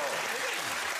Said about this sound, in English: Hugh started his own applause break.